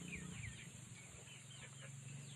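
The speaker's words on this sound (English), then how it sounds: "the chicken are just disturbing me here" Chickens cluck softly and repeatedly near a pool-side garden, low murmuring calls over a faint steady background hum.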